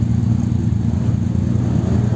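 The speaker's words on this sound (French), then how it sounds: "Voilà, les voitures partent." Classic racing cars pull away at the start of a session at the Magny-Cours Classic Days, a steady low engine rumble heard from a distance with no distinct revs.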